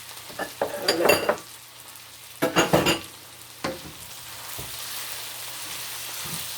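Beef, broccoli and onions are stir-fried in a pan, with a continuous sizzle broken by bursts of metal utensil scraping and clattering against the pan, then a softer steady frying hiss.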